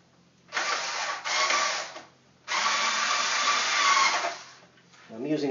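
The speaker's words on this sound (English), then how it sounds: "I'm using a power screwdriver." A power screwdriver driving screws into a Dell XPS tower during a drive bay install, two short whirring bursts followed by a longer one, close and loud, with a voice starting at the end.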